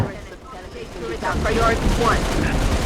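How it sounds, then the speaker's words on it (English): Rapid gunfire from a Gatling gun in Halo Reach, a steady rattling burst of shots mixed with game combat noise, loud and continuous. "I'm shooting them from over here, even though I can't hit anything that's that far away with this dinky little Gatling gun I have"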